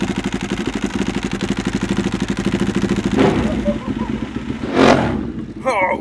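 A 200-horsepower Pikes Peak race motorcycle engine idles with a rapid, steady throbbing pulse, then blips loudly twice with short, sharp revs close to the microphone.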